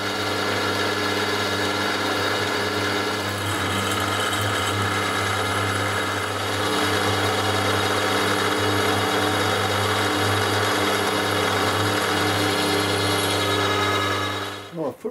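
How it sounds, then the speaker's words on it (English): A machine drill bores a hole in a silver steel rod, running with a steady loud mechanical hum and whine that continues for the whole stretch before cutting off abruptly at the end. "I want to drill a hole this end and a hole at the bottom here"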